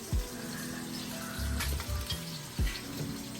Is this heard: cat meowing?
no